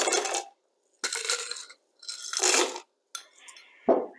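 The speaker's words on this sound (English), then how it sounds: "So I'm going to add the ice to the shaker." Ice cubes go into a metal cocktail shaker at a home bar in separate clattering bursts, four quick rattling scoops with short silent gaps, close and clear, with no talking.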